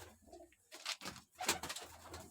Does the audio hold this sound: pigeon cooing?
yes